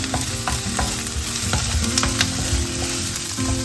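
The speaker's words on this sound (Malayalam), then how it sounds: "ജസ്റ്റ് ഒന്ന് വഴന്നു വരുന്നു. അതിനകത്തോട്ട് ക്യാപ്സിക്കം, ഒരു അര ക്യാപ്സിക്കം, അതും സ്ക്വയർ ആയിട്ട്." Capsicum sautés in a pan for chilli paneer, with a steady crackling sizzle and frequent stirring and scraping clatter all the way through, close and fairly loud, with no one talking.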